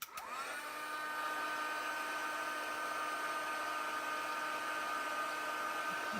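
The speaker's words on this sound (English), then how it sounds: "I'm just going to use our heat tool on the highest setting" A heat gun running on its highest setting to melt embossing powder for stamping, a loud steady whirring blast with a high whine that starts abruptly and holds constant throughout, with no talking.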